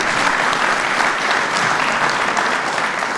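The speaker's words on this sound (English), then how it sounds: "Give him a round of applause anyway." An audience at a fatherhood event with President Obama breaks into sustained applause, a dense, even wash of clapping from many hands that holds steady throughout with no talk over it.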